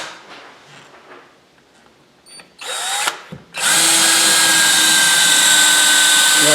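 A long power drill bores into a wooden wall stud while building a lumber or pipe rack, with a brief start and stop before a steady, loud, close whine running to the end, after some quiet shuffling.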